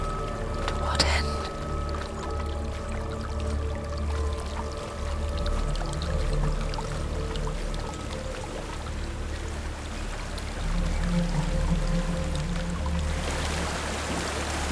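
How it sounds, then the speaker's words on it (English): A waterfall in the video game Hellblade: Senua's Sacrifice pours with a steady broadband rush and low rumble throughout, with brief voices and faint tonal ambience over it. "There's a waterfall."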